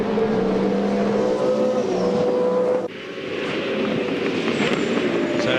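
A Caterpillar Ford AU XR8 V8 touring car races at Queensland Raceway in the 1999 Shell Championship, heard from onboard. Its loud engine roar drops suddenly about halfway through as the brakes bite, then carries on at a lower, steadier pitch.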